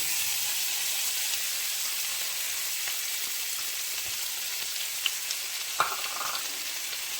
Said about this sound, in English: This is a half an onion.